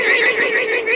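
Guanaco giving a loud alarm call to warn its herd, a continuous harsh, neigh-like whinny with wavering pitch lasting about a second, close and alone.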